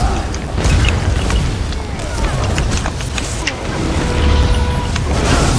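A barrage attack erupts during an Elder Scrolls Online battle as a loud, sustained rumble of booming impacts that rolls on without pause for several seconds.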